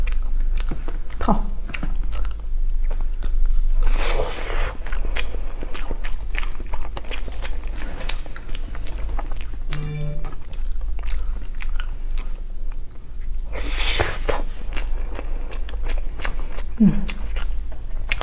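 Filled sweet snack balls with a cream centre are bitten and chewed close up, several crunchy bites and wet chewing spread through the stretch, with someone speaking briefly in between.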